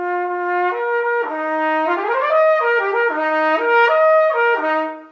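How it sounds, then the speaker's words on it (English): Cornet played through a large French-horn-style mouthpiece, sounding a clear sustained melodic line of several connected notes with smooth slides between pitches, close and fairly loud, no other sounds. "And it sounds like this in a cornet"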